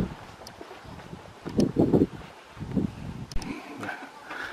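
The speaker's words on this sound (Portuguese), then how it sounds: "Olha só, e o vento," Strong gusty wind buffets the microphone in bursts on a walkway by a tunnel in the Bryce Canyon rock formations, with a clear surge near the middle and quieter rushing between gusts.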